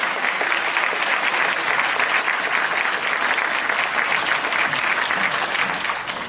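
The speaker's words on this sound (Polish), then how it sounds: "teraz zabijcie brawo dla mojego kolegi" A stand-up comedy audience in Poland gives sustained, dense applause as a comedian takes the stage, a steady wash of clapping that fades slightly at the end, with no voices.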